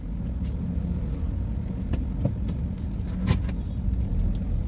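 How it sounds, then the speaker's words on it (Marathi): Traffic at a busy road junction (chowk): a steady, continuous rumble of cars and other road vehicles close by, with passing engines swelling and fading, and no talk. "ह्या चौकात पण कायम ट्रॅफिक असते"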